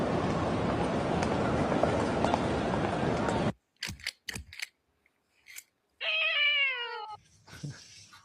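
A cat meows a few times after a loud stretch of noise, with short scattered clicks and rustles in between; the meows are clear and fairly close.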